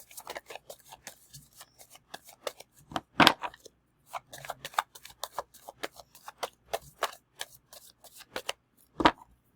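Oracle cards being shuffled by hand, a run of quick papery riffles and taps with brief pauses, close and fairly quiet, with a couple of sharper slaps along the way.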